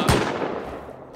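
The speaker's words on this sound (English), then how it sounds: "He's about to shoot me." A single sharp gunshot goes off in the survival game Rust, loud and close, with a short rumbling tail.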